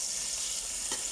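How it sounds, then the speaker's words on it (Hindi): Chicken pieces fry in a pan with ginger garlic paste for biryani, giving a continuous close hiss and sizzle. "अब हम इसके अंदर अदरक लहसुन का पेस्ट डाल देंगे और इसको अच्छी तरह से हम फ्राई कर लेंगे।"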